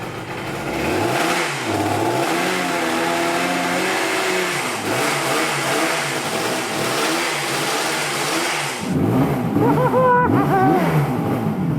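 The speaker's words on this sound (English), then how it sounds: "That's a running bike, Craig." A Kawasaki motorcycle with a formerly seized engine runs after its first kick start, loud and close, revving up and down repeatedly with a rough, uneven idle between blips and a louder surge near the end.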